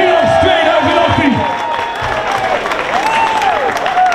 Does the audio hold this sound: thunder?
no